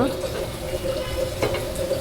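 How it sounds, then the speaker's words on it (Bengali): Water pours into a pan of rohu fish curry with broad beans, a short, steady, close splashing rush of liquid lasting about two seconds. "পানি দিয়ে দিচ্ছি পানি"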